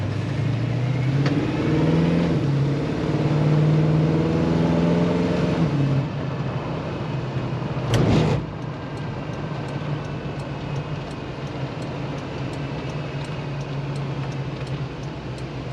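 A 1933 Ford street rod hot rod engine rumbles steadily while driving, a continuous low, loping drone with a brief louder burst partway through, heard alone without talk.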